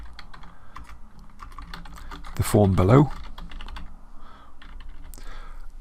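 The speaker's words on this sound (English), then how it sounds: "we were just typing here something like," Steady typing on a computer keyboard clicks throughout, fairly close, while a person talks over it briefly in the middle.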